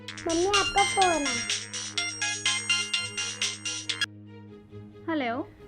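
Electronic phone ringtone plays a repeating melodic jingle in a home, close and clear, with a voice calling out briefly at the start and again at the end.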